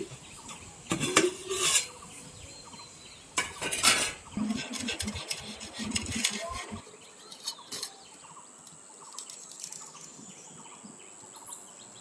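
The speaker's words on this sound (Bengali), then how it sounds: "এই ঢাকনাটাও এখন আমি নামিয়ে নিচ্ছি" A pot lid is lifted off and set down with several close metallic clanks and rattles in two short bursts. Quieter handling and faint chirping follow, and nobody speaks.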